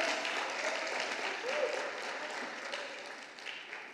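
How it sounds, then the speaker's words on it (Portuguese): Church congregation applauding during a worship service, a continuous wash of clapping that stays fairly even and moderately distant throughout, with faint voices mixed in. "Alguém pode aplaudir ao Senhor nesse lugar?"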